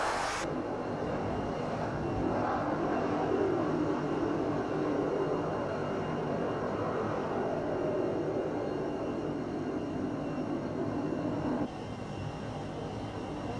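Aircraft circle overhead an aircraft carrier, tankers holding position for airborne refueling, giving a steady, continuous broadband engine roar that stays level throughout and dips slightly near the end, with no voices.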